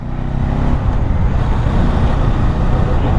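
A road traffic jam in Hyderabad, after two lorries collided, fills the air with a steady, close roar of idling and creeping engines and dense road noise.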